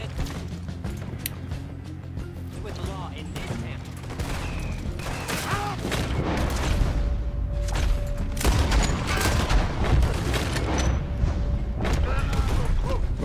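Gunfire in the Red Dead Redemption 2 video game: dense, rapid volleys of shots with mechanical clatter, growing louder and busier over a sustained firefight, with scattered voices underneath.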